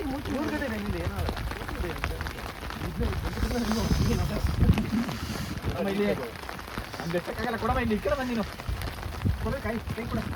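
Steady rain patters on a surface as a constant hiss, while people talk over it close by.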